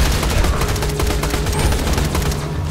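Loud, continuous rapid gunfire from a gun in the video game Borderlands 2, a dense, steady stream of shots close up with no pauses.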